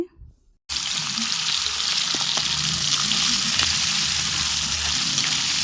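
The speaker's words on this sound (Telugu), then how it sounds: "ముందైతే రొయ్యలు అయితే ఇలా వేయించేసుకుంటాను" Raw prawns frying in hot oil with turmeric, a loud, steady, dense sizzle that bursts in after a short quiet start and continues unbroken with a few faint clicks.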